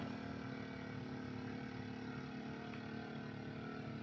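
A vehicle engine labors hard while climbing a steep zigzag road near Poblacion, Magsaysay, Occidental Mindoro, a steady rough drone with no break, close and fairly loud, with no talking over it.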